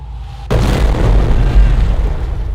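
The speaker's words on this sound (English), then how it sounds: "Order the mortar half-track to fire an incendiary barrage at the enemy infantry squad." Incendiary barrage from a mortar half-track in the Company of Heroes video game, a sudden loud explosion followed by a rumbling, crackling roar that lingers for a couple of seconds.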